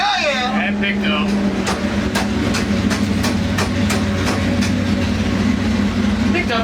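A turbocharged engine on a dyno horsepower run: a loud, steady, close drone with a rhythmic clatter running through it, while people talk over it.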